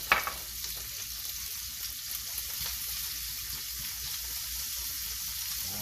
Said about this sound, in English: My pan is hot with a little butter and a little oil. Let's drop our cooked ham.